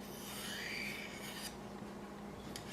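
A knife is honed along a sharpening rod, producing a continuous, fairly close rasping scrape with a couple of brighter strokes near the end and no voices.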